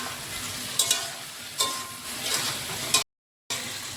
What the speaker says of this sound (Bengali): তাহলে এখন একটু ভালো করে ভেজে নেব